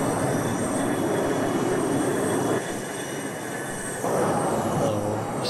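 A fixed-wing aircraft in the video game Arma 2 flies with flaps and gear raised, producing a loud, steady engine and wind roar that dips briefly and then swells again.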